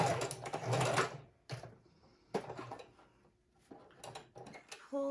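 A sewing machine runs a zigzag stitch across a pocket on a junk journal page in short bursts separated by pauses, with small clicks and handling noises of paper and thread between runs.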